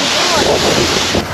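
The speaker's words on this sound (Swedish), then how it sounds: "Nej, det är blåsten liksom." Strong wind buffeting the microphone on a ski slope, a loud, steady roaring rush throughout with no clear talking.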